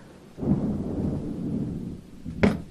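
A thunderstorm rumbles as a low, sustained roll of thunder, then a sharper crack near the end, heard indoors at moderate loudness without talking.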